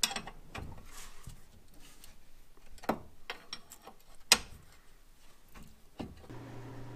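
A wrench loosens the brake caliper mounting bracket bolts on a 1999 Subaru Impreza 2.5RS during a disc brake job. Quiet, intermittent ratcheting clicks and metallic ticks come up close, with a few sharper knocks between them.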